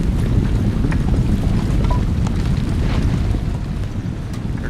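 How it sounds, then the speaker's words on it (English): Artillery fire in an Empire: Total War multiplayer battle, a continuous rumbling roar of distant cannon blasts with scattered sharper cracks, loud and dense throughout. "here comes some artillery fire"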